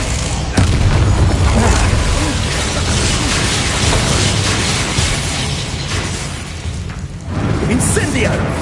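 Confringo spell blasts in Hogwarts Legacy combat, a continuous loud roar of booming explosions and bursts, with voices over it.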